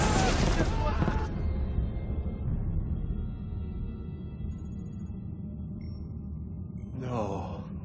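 Explosions in the Assassin's Creed II video game erupt in a loud, close burst that rolls into a long fading rumble, with a brief, sharper blast near the end.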